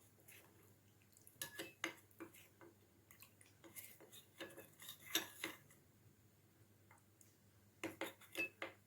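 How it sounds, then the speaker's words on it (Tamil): A spoon clinks and scrapes against a bowl in quick bursts of stirring, with short pauses between rounds of mixing. "கட்டி இல்லாமல் நல்லா கலந்துக்கலாம்"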